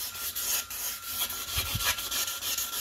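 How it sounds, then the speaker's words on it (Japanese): Waterproof sandpaper rubbed over limescale inside a toilet, a close, steady gritty scraping in repeated back-and-forth strokes with no talking. "耐水ペーパーです。 やります。 そーっと、こすります。"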